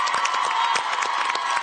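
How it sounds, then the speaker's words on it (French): A school audience at a teen clan-challenge event applauds and cheers together, a dense, steady wash of clapping and crowd noise with scattered shouts throughout. "Ben, on les applaudit."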